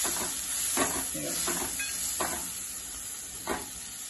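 Chopped onion frying in a pan for Mumbai-style pav bhaji gives a steady close sizzle and hiss, with several soft scraping stirs at irregular intervals.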